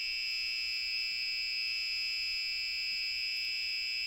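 Continuous piercing electronic alarm tone from a scooter battery setup, a steady high-pitched buzz holding at the same level throughout, alone with no talk.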